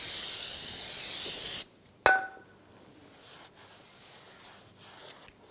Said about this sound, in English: Use some brake parts cleaner, wipe it down with a rag.